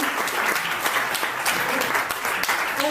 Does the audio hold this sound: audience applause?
yes